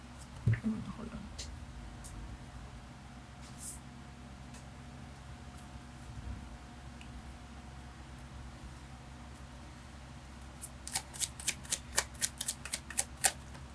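Tarot cards being shuffled, quiet at first, then a quick series of soft crisp riffling flicks near the end, heard after a faint spoken voice in a calm room.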